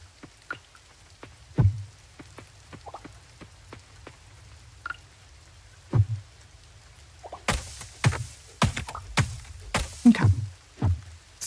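Rain falling in the farming video game Coral Island, scattered droplet taps and soft thuds that grow denser and louder toward the end, heard alone without talk.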